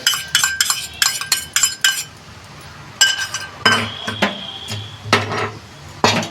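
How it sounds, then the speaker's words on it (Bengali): A spoon clinks sharply against a pan as a spoonful of fried gram flour (besan) goes in while cauliflower dhoka cooks, with several quick clusters of metallic taps and scrapes close by and no talking. "আর একটু বেসন ভেজে রেখেছি, বেসনটা 1 চামচের মতন দিয়ে দিলাম।"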